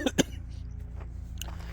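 Two quick, sharp coughs come close together near the mic, outdoors, brought on by pollen. Quiet background follows.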